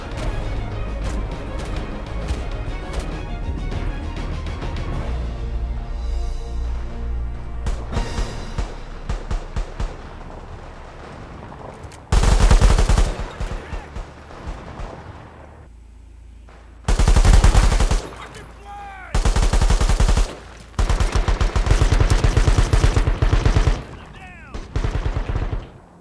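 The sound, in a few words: artillery and gunfire in the video game World War 3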